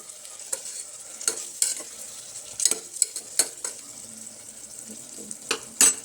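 A spoon stirs ingredients sizzling in hot oil in a pan while cabbage pulao is cooked. Steady frying hiss runs throughout, with scraping and clinking strokes of the spoon against the pan, close by.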